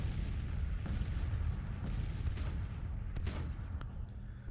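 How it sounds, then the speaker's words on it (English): Howitzer artillery in the Grand Tactician Civil War strategy game fires in scattered distant booms, several muffled thuds spread over a few seconds against a low rumbling battle backdrop. "our guns have obviously opened up on them with their howitzers"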